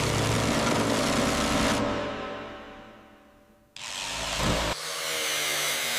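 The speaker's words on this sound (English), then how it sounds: "Keep the grinder moving." A grinder works the roof seams of an abandoned 1985 Mercedes-Benz 280 GE G-Wagon being restored, first a loud steady whine that winds down and fades out, then a sharp restart that roars on again.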